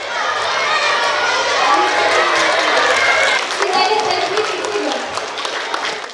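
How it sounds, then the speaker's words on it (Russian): A school assembly crowd breaks into loud, sustained applause for a champion, a dense wash of clapping that slowly thins toward the end. "Ей неловко, что эти бурные аплодисменты для нее"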